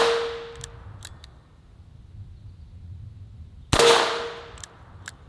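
Two loud gunshots from a century-old revolver firing 100-year-old ammunition, each a sharp crack ringing out outdoors, spaced a few seconds apart with quiet between.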